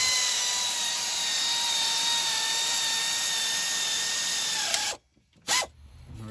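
A power tool tightens two alternator bolts on a GMC Yukon XL Denali 6.2, whirring steadily and loudly up close for about five seconds before stopping, with a brief second burst.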